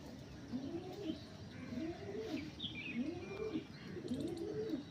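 Malayali pigeons coo in a steady, repeated rolling rhythm, close and clear, with soft chirps over a low background hum and no talking.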